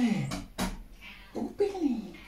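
A pet tomcat meows twice, each a soft, falling cry, with a pause between them and quiet talk nearby.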